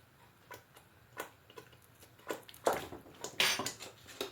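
A pot of Nigerian jollof rice being stirred, with soft scraping and intermittent metallic clinks and taps of a spoon against the pot, close and quiet.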